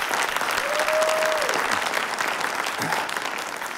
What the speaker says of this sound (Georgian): აპლოდისმენტების თანხლებით ხდება ეს.